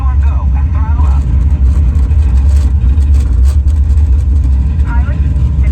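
A deep, steady simulated rocket-launch rumble fills the Mission Space ride at Epcot, Walt Disney World, loud and continuous beneath radio-style voices giving launch commands.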